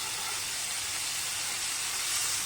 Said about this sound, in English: The next step is to add the chopped tomatoes.